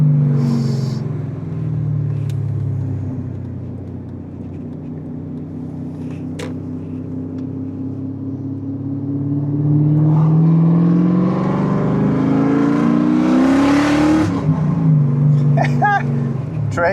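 BMW M5 E39 V8 engine heard from inside the cabin while driving, a deep rumble that swells into a hard rev and then drops back, with brief voices in between.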